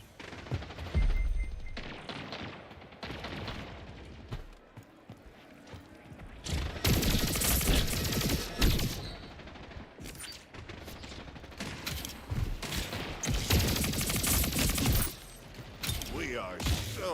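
Submachine gun fire in the video game Splitgate 2, dense rapid bursts of automatic shots, loud and close, repeating in long rattling strings with mechanical clacks between them.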